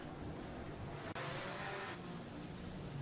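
Mod Mini race cars line up at New Smyrna Speedway, a steady loud engine rumble with a broad hiss, briefly cut by a sharp drop and then building again, with no talking.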